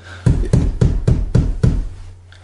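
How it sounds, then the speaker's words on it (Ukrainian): Six firm, evenly spaced knocks on a door, loud and close, in a quick steady rhythm, followed by a brief quiet tail. "Адже це стукає хороша новина у дім"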